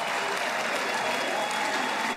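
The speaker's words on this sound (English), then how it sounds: "everybody's clapping for a pardon" A crowd at a political event applauds continuously, a dense, steady wash of clapping heard at fairly close range and played back as a clip.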